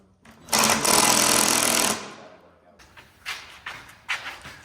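A power tool drives screws while a lip kit is fitted to a Volkswagen MKV R32, giving one loud buzzing burst of about a second and a half, followed by quieter intermittent bursts and thumps.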